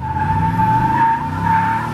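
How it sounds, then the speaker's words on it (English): A 2020 Ford F-150 King Ranch pickup does a short burnout with traction control off, a steady tire squeal and spinning roar holding loud and close throughout alongside a low engine drone. "Maybe I'll try a little burnout right here actually."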